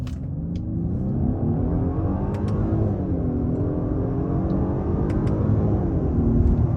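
A 2023 Genesis G90 luxury sedan accelerates hard in sport mode, its engine a steady, deep rumbling drone that climbs and swells inside the cabin, with faint clicks over it.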